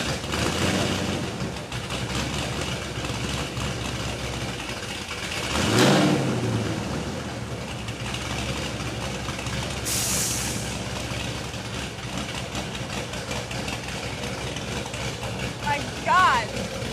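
The GPI 416 Camaro engine drones loud and steady on a dyno, a dense continuous roar with a rising sweep partway through, while voices talk over it.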